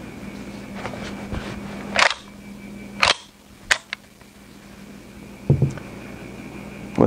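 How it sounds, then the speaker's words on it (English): Sharp metallic clacks of the action on an M10X DMR rifle chambered in 7.62x39 as it is cleared: about five distinct close snaps spaced over several seconds, with quieter handling noise between them. "I'm just going to clear the rifle and make sure it's safe."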